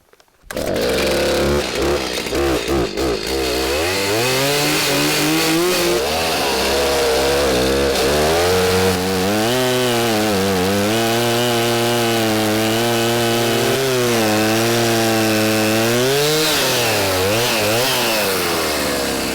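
Woodland Mills HM126 small sawmill sawing through a big pine log, a loud continuous engine drone with pitch shifting as the blade bites, steady and close throughout with no talk.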